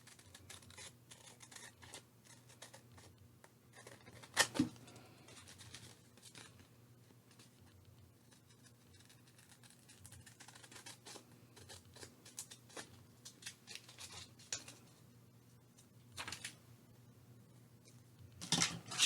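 Scissors trim heavy 49 to 60 pound paper during journal crafting, giving faint, close, irregular snips and rustles spread over nearly twenty seconds, with no talking.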